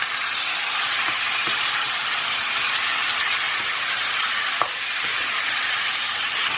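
Tomatoes sizzle and hiss steadily as they are stirred into a chicken and spinach curry, a loud continuous frying noise up close with a few faint spoon scrapes and knocks against the pan.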